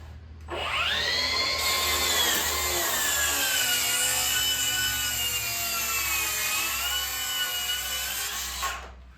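A track saw rips a board for farmhouse-style interior window trim, giving a loud, steady whining cut that holds for about eight seconds and then stops abruptly.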